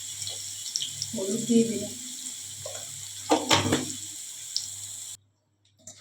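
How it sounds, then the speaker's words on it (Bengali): Boiled potatoes fry in a pan for a vegetarian potato and cauliflower dish, a steady close sizzle running under a voice and stopping abruptly near the end. "সেদ্ধ করা আলু দিয়ে দিলাম। আলুটা ভেজে নিতে হবে।"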